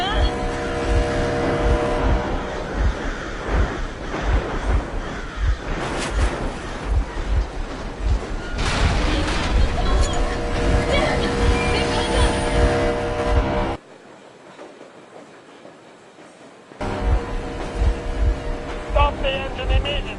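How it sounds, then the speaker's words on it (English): Vehicle engine running in the video game Metro Exodus, a loud continuous rumbling drone with revving surges that cuts out abruptly for a few seconds, then resumes. "Stop the engine immediately and come out with your hands above your head."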